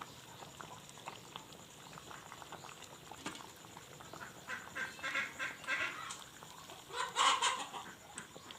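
Ducks quack and chickens cluck in scattered bursts at a distance, over a constant bubbling of a pot of sweet corn coconut syrup simmering.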